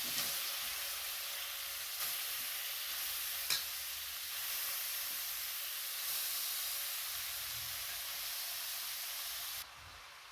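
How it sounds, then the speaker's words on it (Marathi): Grated carrot sizzles and hisses in ghee in a kadhai for carrot halwa, a steady soft frying sound with faint stirring scrapes and no talk. "आता हा आपण गाजराचा खीस यामध्ये घालूयात."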